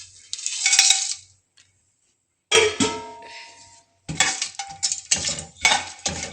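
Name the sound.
dry whole spices being added to hot oil in a pan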